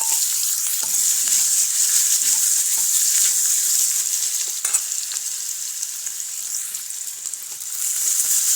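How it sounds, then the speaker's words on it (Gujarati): Mustard seeds, cumin, curry leaves and onion sizzle steadily in hot oil in a pan for khichdi, a loud continuous hiss with scattered crackles and pops, with no talk over it. "તેલ આપણું ગરમ થઈ ગયું છે, તો તેમાં આપણે રાઈ નાખી દઈશું"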